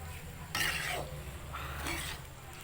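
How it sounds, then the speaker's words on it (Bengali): Chow mein noodles are tossed and mixed in a pan, with a few metallic scrapes and clinks of the utensil against the pan over a low steady background hum. "ভালো করে মিক্স করে নেবো আমরা।"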